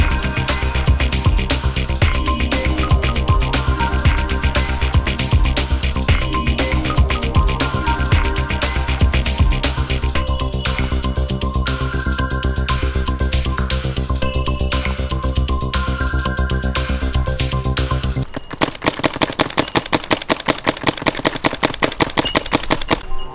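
A Tippmann M170R paintball marker fitted with a Deadlywind HAIR valve fires in rapid, evenly spaced bursts, a loud dense string of pops. The shots come in a sharper, clearly separated rhythm toward the end.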